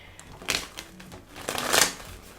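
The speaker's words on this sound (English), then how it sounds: "So hard to shuffle these cards." Tarot cards shuffled by hand in a stiff, overfull deck, giving two soft bursts of riffling and rustling with a quieter patch between, close up and without talk.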